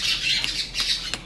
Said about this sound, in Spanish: Y quizá griten más los pericos que yo